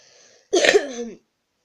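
A single short cough, close and sharp, rings out after a brief quiet moment and ends abruptly.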